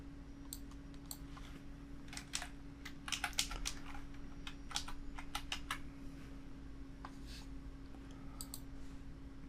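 Fingers type on a computer keyboard, entering a username and then a password: bursts of crisp key clicks with short pauses between them, close and fairly quiet over a steady background hum.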